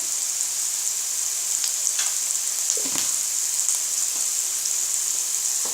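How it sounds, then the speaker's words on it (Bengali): Spices with chili powder fry steadily in oil left from frying hilsa fish, a constant bright sizzle with a few soft stirring scrapes, close and even throughout. "এখন সব মশলা একসাথে মিশিয়ে একটু সময় ভেজে নিচ্ছি।"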